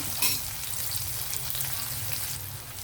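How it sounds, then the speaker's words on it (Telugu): Sliced onions sizzle and fry in hot oil in a pan for a chickpea and bottle gourd curry, a steady close crackling hiss with a brief louder stir near the start. "ఉల్లిపాయలు వేగిపోయాయి"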